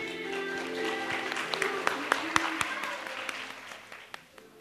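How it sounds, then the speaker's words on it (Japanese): An audience at a corporate presentation applauds to welcome a dairy company presenter, with dense clapping that thins into a few scattered, distinct claps as it fades out. "皆様大きな拍手でどうぞお迎えください。"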